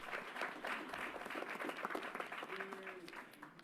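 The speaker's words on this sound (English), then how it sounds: "Let's give them a round of applause." Audience at a political event applauding in a modest, uneven patter of clapping, fairly quiet, with some voices mixed in.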